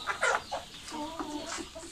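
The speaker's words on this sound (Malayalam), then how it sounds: "അപ്പോൾ ഇതാണ് കരിങ്കോഴി എന്ന് പറയുന്നത്." A black karinkozhi chicken clucks on a poultry farm, giving a handful of short, fairly close clucks and calls spread over two seconds against quiet background.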